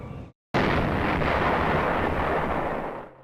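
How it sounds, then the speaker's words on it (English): A distant explosion recalling the Pearl Harbor attack: a sudden massive boom after a brief silence, then a broad rumbling roar that sustains for seconds and slowly fades. "An explosion in the distance, but hits us so close to home"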